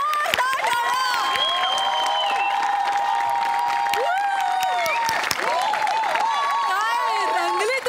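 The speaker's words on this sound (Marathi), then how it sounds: "जोरदार टाळ्या." A studio audience at a Marathi comedy show claps continuously with some cheering, a dense, steady wash of applause mixed under loud music and voices.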